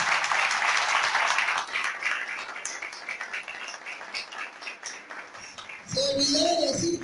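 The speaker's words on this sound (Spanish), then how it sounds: "Fuerte el aplauso para ella." Applause from an audience at a memory and identity festival, dense clapping for about six seconds that thins briefly before a voice starts speaking over it near the end.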